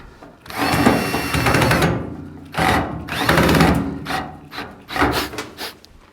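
A power tool tightens a nut while a Dyna Glo forced air heater is being assembled, several loud close bursts of whirring with short pauses between them.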